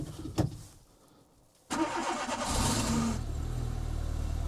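A 1.2 litre petrol car engine starting on a frosty day: a short cranking burst, then the engine catches abruptly and settles into a steady, fairly loud idle close by.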